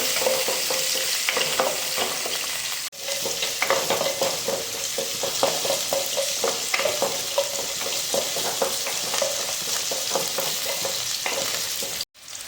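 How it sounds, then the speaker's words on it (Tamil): Continuous sizzling of onions frying in a pan, with repeated scraping and clinking as they are stirred, steady and close throughout with no talking. "வெங்காயம், நல்லா நெல் கலரில் வர வரைக்கும் நல்லா வதக்கணும்."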